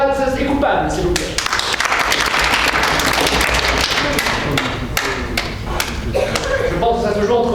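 Audience applause at an improv comedy show, a dense, loud wash of clapping that swells and holds for several seconds before thinning out, with no talk over it.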